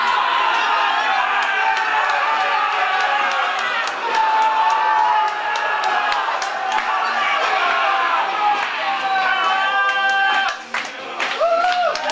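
Paid extras form a hired crowd at a staged Christian festival scene, cheering, clapping and whooping continuously at close range, with shouts and chatter mixed throughout and a brief dip near the end.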